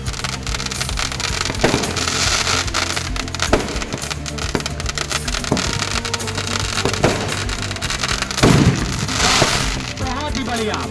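Fireworks at the Dewa Sharif Mela fair in 2024 burst one after another in rapid crackling volleys, with sharper booms scattered throughout and faint voices in the background.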